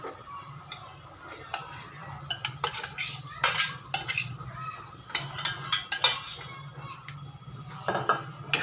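Boiled mustard greens are stirred in a pan for saag, with a spoon scraping and clinking against the metal in irregular close strokes over a faint sizzle, and no talking.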